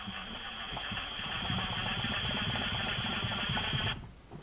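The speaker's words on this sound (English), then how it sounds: "This is an impact gun, so just be careful." An impact gun spins the electric parking brake caliper screw on an Audi A8, a loud, close, steady motor whir that holds for about four seconds and then cuts off abruptly.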